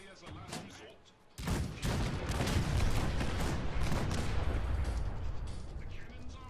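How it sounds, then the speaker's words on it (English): Cannons fire a broadside in the Fallout video game: a sudden heavy burst of overlapping booms erupts and rolls on as a dense, sustained roaring barrage. "The cannons are ready. Fire at will. Broadside them, soldier."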